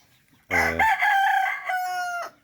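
A rooster crows once loudly and close, a long drawn-out call with a rising then steady tone, alone without talk.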